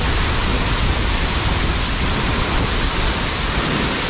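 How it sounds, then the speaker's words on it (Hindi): Steady, loud broadband roar of water rushing with force below a viewpoint at Bhandardara, continuous and unbroken, with no voices over it. "नीचे पूरा पानी फोर्स में जा रहा है"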